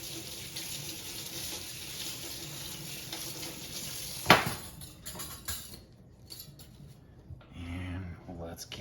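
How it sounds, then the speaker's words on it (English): A whisk rinsed under a running kitchen tap while making keto lemon cheesecake bars, a steady close hiss of water with a sharp clink partway through, then the flow cuts off and quieter handling follows. "I'm going to rinse our whisk a little bit."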